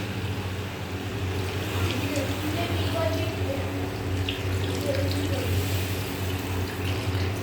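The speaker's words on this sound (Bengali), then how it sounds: "এবার জল দিয়ে দেবো।" Water pours steadily into cooked, browned chicken in a pan, making a continuous splashing rush with a low background hum throughout.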